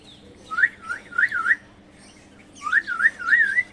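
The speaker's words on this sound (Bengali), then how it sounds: "আর এই যে আমাদের কোকাটেল, এই যে লাভ বার্ড, এই যে বাজরিকা।" Pet cockatiel, lovebird and budgerigar give two bursts of loud, close, whistling chirps with rising and falling warbles, separated by a brief lull, with no talking.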